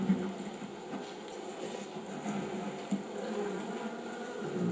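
A steady, soft drone of many Russian honey bees buzzing close by during an indoor winter hive inspection, a continuous hum with slight swells and no voices.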